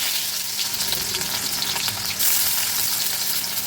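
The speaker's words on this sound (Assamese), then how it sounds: "তেলখিনি গৰম হোৱাত এতিয়া দিলোঁ মই পিঁয়াজখিনি" Onions hiss and crackle in hot oil in a kadai on a gas stove, a dense, continuous sizzle heard up close with faint stirring scrapes.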